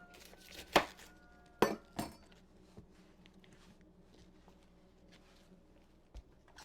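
A few separate knife chops hit a board as cabbage is cut, with two sharp strikes close together early on, then softer, sparser taps in a quiet room.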